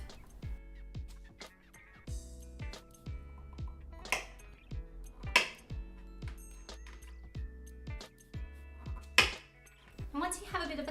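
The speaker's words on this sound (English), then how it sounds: "Just cutting with a sharp knife." A sharp knife cuts through candy sticks on a hard board in a steady series of crisp taps and snaps, with occasional light ringing pings, close and fairly quiet.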